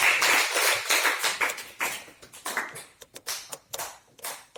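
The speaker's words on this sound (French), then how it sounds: "Applaudissons pour la gloire de Dieu pour cela" A church congregation claps in praise, a burst of dense, close applause that thins out into scattered, uneven claps fading toward the end.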